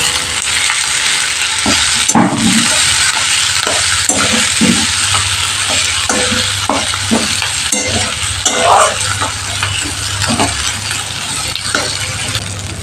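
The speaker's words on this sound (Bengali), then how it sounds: "এবার আমি লাল লাল করে তেলের মধ্যে আলু পেঁয়াজ আর লঙ্কাটা একসাথে ভেজে নেব" Potatoes, onion and chili sizzle steadily in hot oil, a dense continuous frying hiss with occasional scrapes and clinks of a spatula stirring the pan, close and fairly loud throughout.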